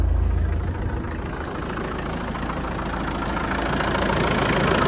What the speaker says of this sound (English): Very smooth running engine.